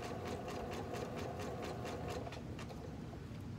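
A sewing machine stitches lingerie elastic onto straight fabric, a steady fast needle rhythm with regular mechanical ticks, close and fairly quiet, slowing and fading toward the end.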